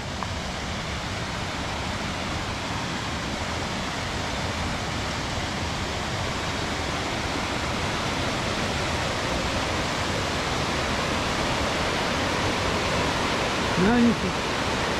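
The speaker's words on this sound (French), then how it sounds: "Une belle cascade." A waterfall near Meyronnes in the French Alps roars in a constant, dense rush of water that stays loud and even throughout, with a faint voice near the end.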